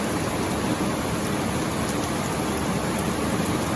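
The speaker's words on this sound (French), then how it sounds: "Voilà, on voit bien ce qu'il pleut." Heavy rain pours down steadily in a dense, unbroken hiss, close and constant, with no other sounds standing out.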